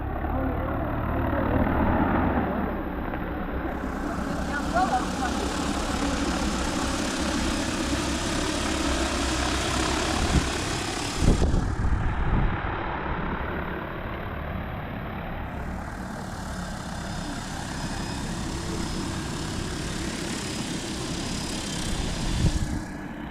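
A small agricultural drone flies with a steady propeller whine and hum, with noisy broadband motor sound and a brief louder burst midway. People talk faintly underneath.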